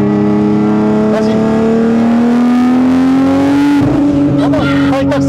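A 1500 hp Nissan GT-R R35 engine revs loudly and steadily, pitch climbing as it accelerates, then breaking into rougher bursts near the end; loud and close throughout.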